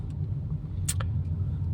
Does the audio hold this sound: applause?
no